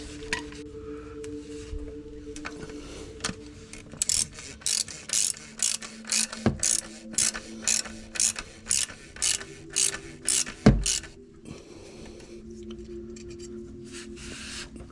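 Socket ratchet tightening the oil drain plug on a BK Vauxhall Astra, a fast run of about fifteen close, crisp clicks in steady rhythm with brief metallic knocks, quiet workshop hum between.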